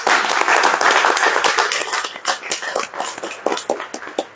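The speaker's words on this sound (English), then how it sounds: "A round of applause for those people." Applause from guests at a farewell dinner in Cape Town, dense and loud at first, then thinning into scattered individual claps over a few seconds, with no voices.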